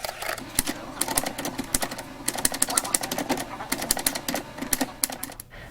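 A mechanical typewriter clatters in quick, uneven bursts of sharp keystrikes, close and fairly loud, with a short pause and a carriage-like thump near the end.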